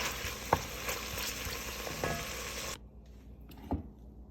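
Bacon browning in a pan before beans go in: a soft, steady sizzle with occasional scraping stir strokes and a light knock, dropping abruptly to a quieter hiss partway through.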